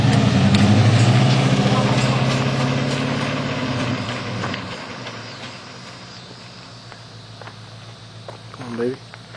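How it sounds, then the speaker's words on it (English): A car engine roars loudly during a burnout and donuts on a shredded left rear tire, then settles toward a lower idle-like rumble while a person talks over it. "Now he's getting ready to do some more donuts."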